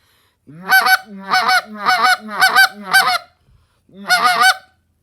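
Goose call blown in clusters of three quick clucks, five triple bursts in steady rhythm, then a pause and one more, loud and close with a reedy honking tone.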